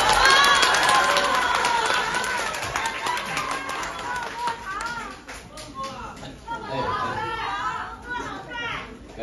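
A live crosstalk show audience in Beijing's Sanlitun gives a dense wash of applause and cheering with excited chatter, staying loud before easing slightly, with voices calling out near the end.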